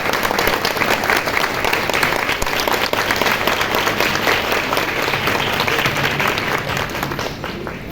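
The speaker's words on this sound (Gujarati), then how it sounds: "જોરદાર તાળીઓથી આપણે માનનીય ચેરમેન સાહેબ આપણે સ્વાગત કરીએ।" An audience bursts into loud, sustained applause to welcome a chairman at a large yoga camp meeting, dense clapping from many hands filling the room evenly for several seconds before easing slightly at the end.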